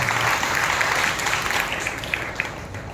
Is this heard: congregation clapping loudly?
yes